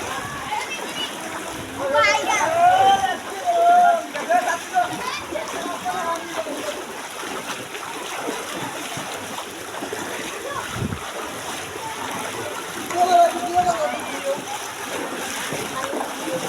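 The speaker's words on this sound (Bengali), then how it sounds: "পানির এত একটা স্রোত" Strong floodwater current rushing across a road after an hour of heavy rain in Sylhet, a steady watery wash with splashing, heard under a man's speech throughout.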